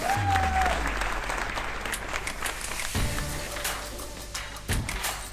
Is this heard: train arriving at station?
no